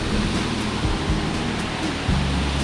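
A loud natural waterfall in Thailand roars as a dense, steady rush of falling water, close and constant with no pauses and no talking.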